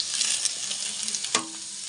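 Pakoras (bhajiya) frying in hot oil, with a steady bright sizzle and crackle that holds close and fairly quiet, interrupted by a few sharper pops and a stirring clink.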